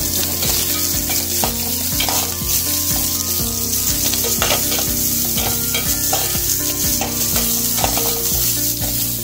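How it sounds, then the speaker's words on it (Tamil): Small onions sizzle in hot oil in a pan while being stirred for puliyanam, a steady close frying hiss broken by repeated scraping and stirring strokes, with no talking. "5லேருந்து ஒரு 6 சின்ன வெங்காயம் கட் பண்ணி வச்சுருக்கேன். அதையும் நம்ம இதில் சேர்த்துக்குவோம்"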